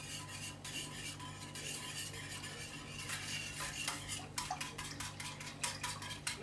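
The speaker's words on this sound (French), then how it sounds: "il faut tout bien mélanger" A spoon stirs a cappuccino cream mixture in a pot, with a continuous scraping swirl and quick clinks of metal against the pan as the pace picks up, no voices.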